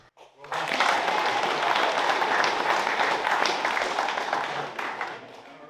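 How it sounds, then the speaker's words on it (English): Audience clapping at a Tasmania Fire Service district 4X4 competition, a dense round of applause that starts abruptly, holds steady for several seconds and then fades, heard fairly close. "clapping."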